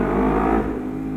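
Loud Lexmoto LXR380 motorcycle engine droning through an open exhaust, a continuous close rasp that eases slightly after a brief high stretch.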